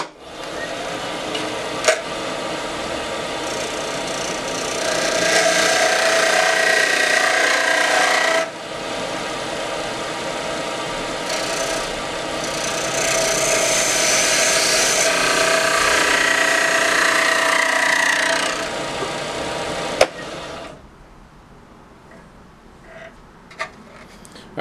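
A wooden ring turns on a slightly untrue mandrel in a lathe, with long stretches of steady rasping as the wood is cut down toward the ring core, broken by short pauses, then near silence at the end.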